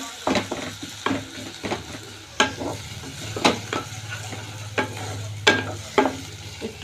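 Onions frying and browning in a pan in a home kitchen, with a steady soft sizzle under repeated sharp scrapes and clinks of a spatula stirring against the pan.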